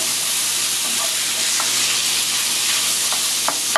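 Pork frying in a pan while cooking for Vietnamese rice porridge, a continuous loud, close sizzle with hissing steam and a few faint spatula taps near the end, no voices.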